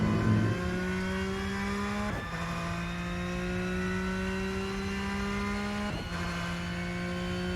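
A Porsche 992 GT3 R race car in a racing video game revs hard and steadily, its engine note climbing through the gears with two brief gear-change dips, loud and alone.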